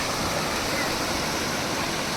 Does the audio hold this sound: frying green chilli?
no